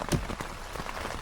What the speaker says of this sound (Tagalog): Hindi na tayo makalabas kasi umuulan.